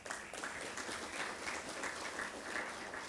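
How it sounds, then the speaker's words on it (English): Audience applause at a lecture on cybersecurity and online fraud protection, a dense, steady patter of many hands clapping throughout, moderately distant, with no talk over it. "give yourself a round of applause"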